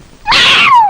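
A cat gives one loud, close meow that rises sharply and then trails off in a long, falling tail.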